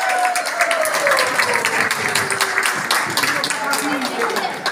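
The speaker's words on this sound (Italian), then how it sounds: "Dai, facciamo un applauso a Don Lorenzo" Applause for Don Lorenzo at a lunch on Monte Amiata: a steady, dense crowd clapping close by, sustained for several seconds, with voices and cheering mixed in underneath.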